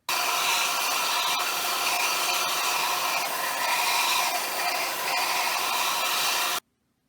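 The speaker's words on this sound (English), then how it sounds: "I'm now going to sharpen this end so it's nice and pointed with the belt sander." A belt sander grinds a point onto the end of a homemade wooden WWI trench club: a loud, steady abrasive whir runs unbroken for about six and a half seconds, then cuts off abruptly.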